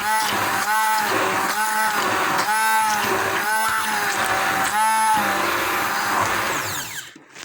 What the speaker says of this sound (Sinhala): එළවලු ටික අපි බ්ලෙන්ඩ් කරගමු.